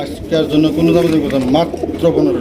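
Low, soft coos from a pair of red strawberry pigeons repeat steadily over a couple of seconds, close by, with faint voices mixed in.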